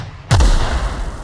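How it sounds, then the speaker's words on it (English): A grenade launcher fires in the video game The Outer Worlds, a single heavy booming shot that bursts in after brief quiet and leaves a rumbling tail. "Let's try out our new grenade launcher."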